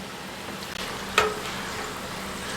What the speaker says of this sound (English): We're just going to continue frying them up until all the tortillas are fried up.